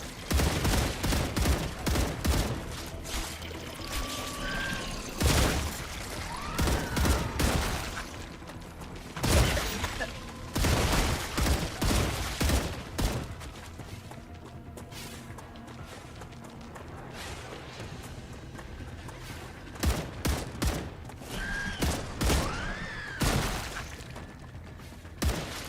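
Sustained gunfire in the StarRupture shooter game crackles in repeated bursts of sharp shots and impacts, with mechanical clatter and occasional whooshing effects, loud and close throughout.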